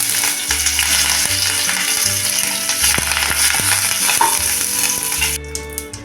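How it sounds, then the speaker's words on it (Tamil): Mustard seeds, cumin and curry leaves sizzle in hot oil in a pan, a loud, close, continuous crackling hiss with soft background music running beneath it. "எண்ணெய் சூடானதும் 1/4 ஸ்பூன் கடுகு, 1/4 ஸ்பூன் ஜீரகம், இது ரெண்டும் பொரிஞ்சதும் கொஞ்சம் கருவேப்பிலை போட்டுக்கலாம்."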